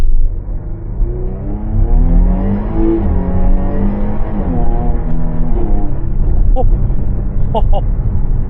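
A Jaguar F-Type with the traction control off and manual shifting, accelerating hard from a standing start. A loud engine roars and climbs through the gears with rising rev sweeps, while a voice is heard over it.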